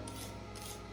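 Vegetable being grated by hand for homemade salmon chowder, a steady close rasping scrape that runs continuously through the moment.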